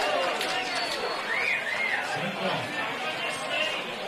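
Crowd noise fills a rugby league ground, a dense, steady babble of many voices with scattered shouts and whistles, holding at a constant level throughout.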